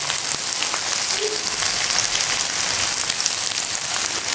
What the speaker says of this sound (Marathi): चांगलंच आपल्याला कांदा आहे ना हे परतून घ्यायचं तेलामध्ये लालसर होईपर्यंत